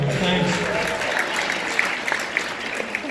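Applause from a comedy-club audience at The Paramount, a dense wash of clapping that starts full and gradually thins out over a few seconds, with a few sharper isolated claps near the end.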